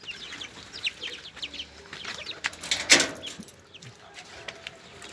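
Pigeons in an opened coop give a burst of flapping wings, loudest in the middle, with soft bird sounds and faint scattered voices around it.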